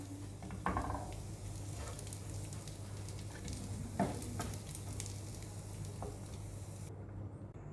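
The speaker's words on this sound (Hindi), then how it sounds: "चिकन को 2 से 3 मिनट हमने ग्रिल किया है।" Chicken tikka sizzles on a stove-top grill, a faint, steady frying hiss with occasional soft taps and stirring sounds over a low background hum.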